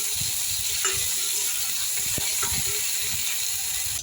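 Giant taro pieces fry in oil with turmeric, giving a steady, close, dense sizzle with a few light scraping clicks from stirring. No voices.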